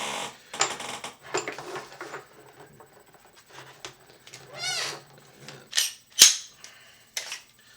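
Stiff plastic clips snapping open on a new Glock 17 pistol case, several sharp clicks and rustling handling noises spaced irregularly, close and fairly quiet.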